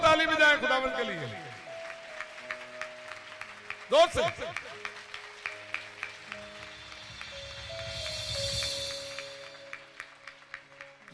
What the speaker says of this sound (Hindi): जोर से ताली बजाएं खुदावंद के लिए